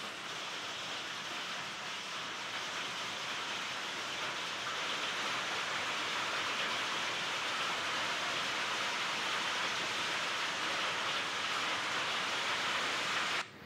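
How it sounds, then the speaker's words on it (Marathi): Heavy unseasonal rain with a storm lashes Chandrapur district in Vidarbha as a steady, dense rushing hiss that holds at a constant level for the whole stretch, with no talking. "चंद्रपूर जिल्ह्यात अनेक ठिकाणी वादळासह पावसानं हजेरी लावली"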